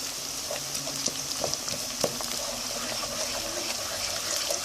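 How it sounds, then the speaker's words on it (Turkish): Chopped vegetables and a teaspoon of pepper paste sautéing in a pot for red lentil soup, a continuous hissing sizzle broken by a few light stirring taps, fairly close and steady with no voices. "Üzerine arkadaşlar domates salçası diye renk versin diye şöyle bir çay kaşığı biber salçasını ilave ediyorum."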